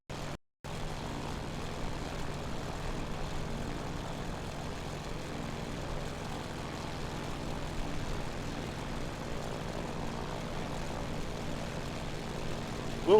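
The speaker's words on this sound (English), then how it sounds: "We'll do a McGarrett style flyby." A Grumman Wildcat's propeller engine drones in a steady, even flyby inside a flight video game, with a continuous moderate hum after a brief cut near the start.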